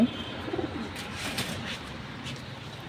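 Pakistani high flyer pigeons coo softly nearby in a loft, low repeated throaty coos over a steady background hiss, with no talk.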